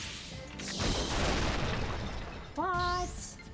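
Cannon fire in the Xenosaga III video game, a heavy booming blast with crashing debris, followed by a rising synthetic whine and tonal sweeps, with a voice speaking faintly.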